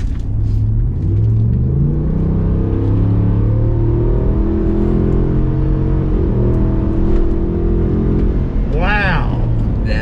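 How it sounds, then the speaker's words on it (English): A 2020 Ford F-350 Super Duty King Ranch with the Tremor package, driven on a straightaway, revs with a loud, deep engine rumble that climbs and falls in pitch through several pulls, heard close up from inside the truck. "I'm going to let you hear this engine as it's meant to be heard."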